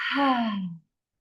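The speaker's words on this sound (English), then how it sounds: "Another big inhale. And a full exhale." A single long, full exhale during a yoga breathing practice, close and clear, a soft breathy sigh that fades out after about eight tenths of a second, followed by silence.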